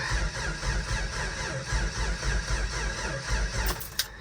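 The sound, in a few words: engine cranking during a cold start attempt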